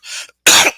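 A person coughs twice in quick succession, a softer first cough then a louder harsher one, very close and alone.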